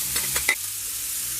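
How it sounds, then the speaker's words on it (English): Onion and garlic frying in butter in a pan, a brief soft sizzle with a few stirring scrapes and one sharper clink, close and alone without talk. "And to fry now onion and garlic."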